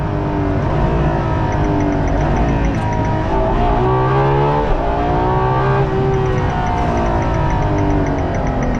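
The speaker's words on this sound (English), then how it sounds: "it's pretty intimidating to floor it in this thing. Let's see in first gear." Ferrari LaFerrari, a rear-wheel-drive hypercar, floored at full throttle in first gear, its engine note climbing in a loud, continuous roar that rises steadily in pitch across the whole stretch with no talking over it.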